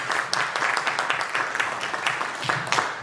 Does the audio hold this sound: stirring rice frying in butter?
no